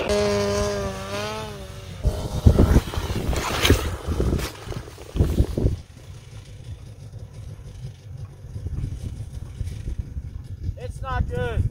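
A 2017 Polaris 800 RMK Axys snowmobile engine runs rough and uneven with a low steady drone. Voices talk over it early, then the motor carries on alone near the mic with sputtering fluctuations.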